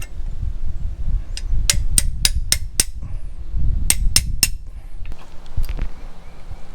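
Metal clinks and taps from tightening a 42-tooth sprocket onto a bike outdoors at a campground, two clustered bursts of sharp ringing strikes, a rapid series of five then three, close and fairly loud over low rumbling background.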